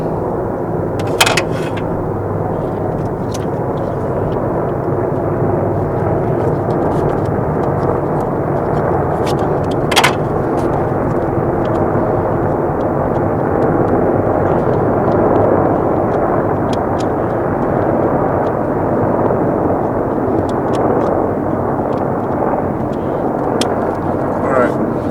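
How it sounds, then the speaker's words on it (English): Six V-22 Osprey military tiltrotor aircraft from a nearby air base pass overhead, making a loud, continuous, rumbling drone that lasts throughout, with someone talking over it. "6 Ospreys going by."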